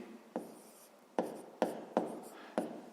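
Pen writing numbers by hand on paper during a fifth-grade maths exercise: five short scratchy strokes spaced across three seconds, close and fairly quiet, with no talking.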